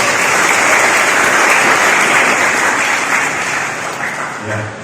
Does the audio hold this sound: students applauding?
yes